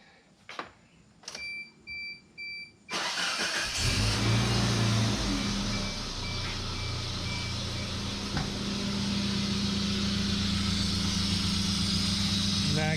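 A Geo Tracker with a newly converted power steering system cranks and catches after a few short bursts, then settles into a loud, steady idle with a brief rise in revs partway through.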